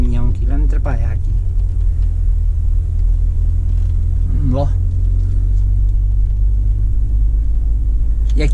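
BMW 320 GT accelerating hard from 0 to 100 km/h, with a steady loud engine and road rumble filling the cabin throughout, and a voice briefly speaking over it near the start and middle.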